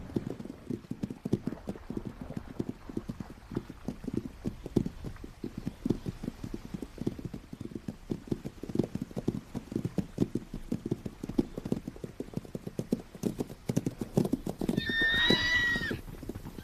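Close, fast hoofbeats pound continuously as a stallion chases a mare, and a loud whinny breaks out near the end.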